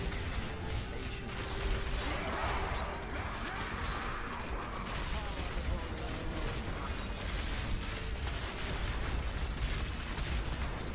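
Repeated bomb blasts in Diablo III, played as a Crusader: a dense, continuous wash of bursts, crashes and popping impacts that blend into a busy, noisy barrage mixed with game effects.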